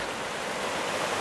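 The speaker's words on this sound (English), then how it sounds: "You see that little waterfall like right there?" A small waterfall on a mountain stream at an old Carolina homeplace, giving a steady, even rush of splashing water, continuous and fairly close, with no talk over it.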